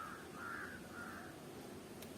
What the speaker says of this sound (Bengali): না না, পাখি ডাকছে